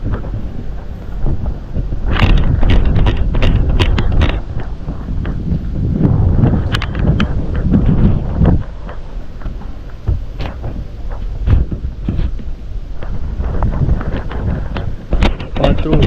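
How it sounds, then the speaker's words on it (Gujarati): Strong storm-like gusty wind buffeting the microphone in loud roaring bursts in a village, with rattling and banging of loose objects, including metal roofing sheets, throughout. "જોરદાર પવન આવે છે વાવાઝોડા જેવો"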